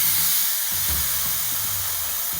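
Compressed air hissing steadily from the drain of an air compressor tank, a broad, even spray sound held at close range for the whole stretch, with a few faint knocks beneath and no talk.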